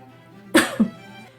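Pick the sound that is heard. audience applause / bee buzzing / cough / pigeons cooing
cough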